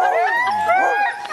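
Sled dogs at a forest outfit in Haliburton, Ontario, bark, yip and whine together before a sledding run, loud and close, their overlapping high-pitched cries rising and falling without pause.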